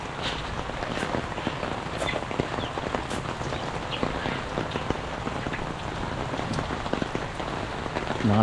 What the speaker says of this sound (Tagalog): 3 linggo na straight yung ulan.